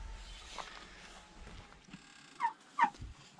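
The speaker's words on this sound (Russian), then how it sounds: "Любимые мои индюшатоньки." Half-grown domestic turkeys gobble twice in quick, fairly loud bursts near the end, after quieter rustling and soft outdoor shuffling; no one speaks.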